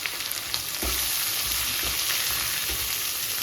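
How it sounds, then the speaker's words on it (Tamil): Sliced radish and sambar powder sauté in hot oil in a pan, giving a steady close sizzle with a few soft stirring knocks and no voices. "முள்ளங்கி சாம்பார் பொடி இப்படி எண்ணெயில் போட்டு வதக்கையில் சாம்பார் நல்லா வாசமாக இருக்கும்"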